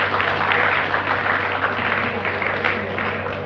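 Audience applause at an indoor event, a short steady burst of clapping at moderate level with faint voices beneath.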